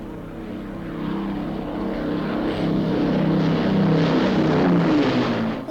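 A propeller plane drones overhead while flying with two engines out of action, a steady low throbbing engine hum that swells gradually louder and stays continuous throughout.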